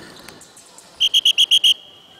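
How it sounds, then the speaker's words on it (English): Six short, sharp whistle blasts in quick even succession during a basketball team defence drill, loud and close, with a faint whistle-like tone lingering afterward and no talking. "So now I'm going to blow the whistle twice"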